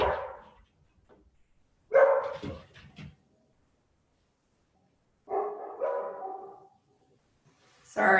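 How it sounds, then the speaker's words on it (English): Dogs set off by a ringing doorbell at home bark in a few close, loud bursts separated by stretches of silence. "somebody made it ring the doorbell. Dogs are going crazy"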